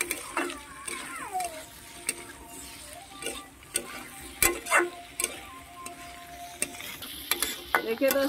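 Tomatoes frying with spices in a pan while making a capsicum dish, with repeated scraping stir strokes and crackling sizzle up close, plus faint voices in the background.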